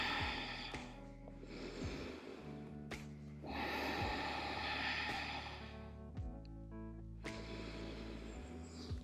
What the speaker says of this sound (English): Beginning to slow down your breathing.